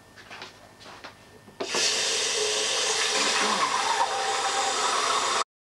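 Water from a tap gushes steadily into a saucepan being set to soak in a kitchen, a loud continuous rush starting abruptly after some faint clatter and stopping sharply after about four seconds.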